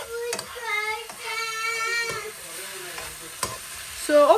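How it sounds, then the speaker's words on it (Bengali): Broccoli mash ingredients, boiled beforehand, fry in mustard oil with a soft steady sizzle and a few stirring scrapes, while a voice or bird-like chirps rise over it in short bursts. "এখন একটু সরিষা তেলে ভেজে নিচ্ছি"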